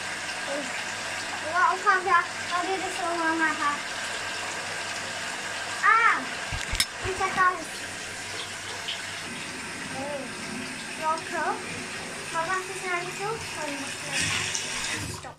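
Water gushes steadily from a tap into a filling bathtub, a constant rushing wash under the whole stretch while someone talks intermittently over it.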